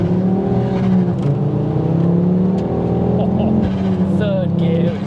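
A Ford Focus RS MK2 hot hatch engine revs hard, its droning, rising note steady and loud throughout while voices talk over it.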